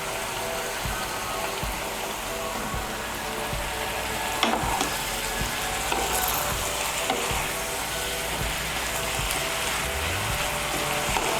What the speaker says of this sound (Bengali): হলুদের গুঁড়োটা মিশিয়ে নেব।